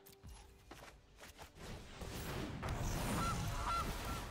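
A goose token in the card game MTG Arena gives two short honks late in the clip, over a rising wash of game background sound.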